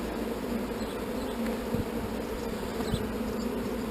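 Honeybees in an artificial swarm hive with fresh wax and a frame of food, a dense continuous buzzing hum at close range, steady and moderately quiet with a few individual bees passing near.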